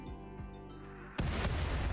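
A deep booming blast from mortar fire in RimWorld, arriving abruptly after a low mechanical drone, followed by a rumbling, crackling tail.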